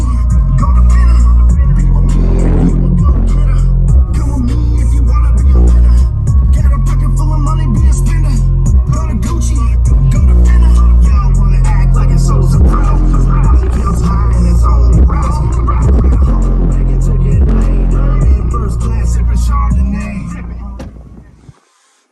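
A Kicker subwoofer pumps heavy, booming bass through a car interior. The sound is loud and steady for about twenty seconds, then fades out at the end.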